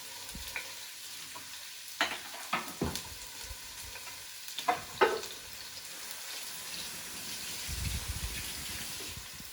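Onions, ginger, garlic and chopped red chilies hit a preheated pot with a few sharp clatters and bursts of sizzling, followed by a softer, steady hiss near the end; no talking.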